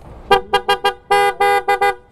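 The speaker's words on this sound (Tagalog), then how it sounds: "ang ganda ng busina mo. Ano yung busina mo?" A Kawasaki Z1000R motorcycle's Hella horn honks four quick short toots, then sounds several longer blasts, loud and close with no talking.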